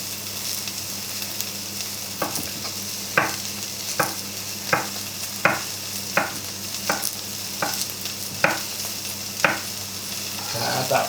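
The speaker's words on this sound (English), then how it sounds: "add the garlic and the chilli. So we're just going to let these cook." Onions, garlic and chilli fry for a lentil and butternut squash curry, a steady sizzle broken by a regular series of spoon taps and scrapes against the pan, close and fairly loud, with no talking.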